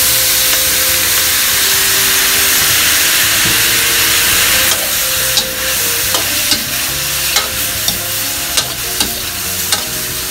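Pork belly braising in a wok with soy sauce, stir-fried under a loud, steady sizzle and hiss, with a run of spatula scrapes and knocks against the pan in the second half.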